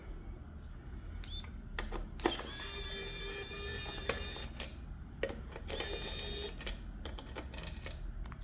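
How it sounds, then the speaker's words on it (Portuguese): A small screw is loosened to free the battery cover of a Sanwa YX 361 TR multimeter, heard as close, quiet clicks and scraping taps, with a brief steady whirring tone in the middle. "A gente solta esse parafuso para soltar a tampa inteira."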